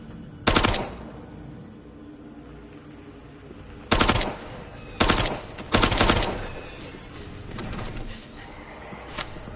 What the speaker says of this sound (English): Nice headshot with a pistol takes care of the raptors.